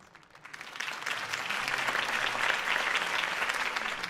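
Sustained crowd applause in the Batman Telltale video game, greeting the end of a campaign speech by Harvey Dent; steady, dense clapping that swells after a soft start and stays full throughout.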